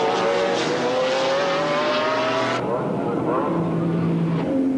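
GT race cars compete at the Jarama circuit in the 1995 BPR Global GT series, engines screaming loud and close with rising revs and a car passing, while a commentator talks over the noise.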